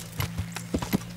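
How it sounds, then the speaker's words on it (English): Horse hooves in the medieval game Kingdom Come: Deliverance, a quick run of soft clip-clop steps at close range over a low steady hum, no one talking. "And spawning horse."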